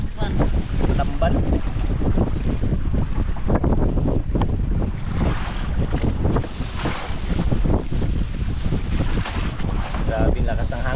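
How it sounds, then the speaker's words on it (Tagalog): Strong wind buffets a cellphone microphone aboard a small fishing boat at sea, a loud, steady roaring rumble that persists throughout, with waves and faint talk underneath. "Maingay talaga sa cellphone, ang lakas ng hangin"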